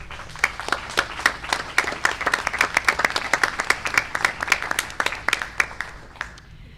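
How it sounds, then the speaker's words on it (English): Audience at an Arkansas State Board of Education meeting applauding; a modest group of distinct, individually audible claps in an irregular, fairly quick rhythm, building then thinning out toward the end. "I think that needs a round of applause"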